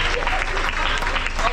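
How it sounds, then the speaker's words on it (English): A cruise ship theater audience claps and cheers loudly, a dense burst of applause throughout. "round of applause for David."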